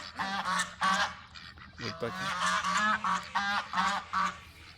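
A flock of ducks honking and quacking in repeated bursts, several birds calling over one another at close range, at a farm mini zoo in Abdali, Kuwait.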